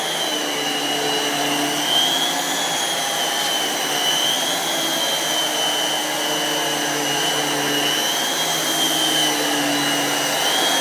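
A Fairfax SCPD7 vacuum cleaner runs continuously at close range, a loud steady whining motor drone with a slight wavering pitch and no other sounds.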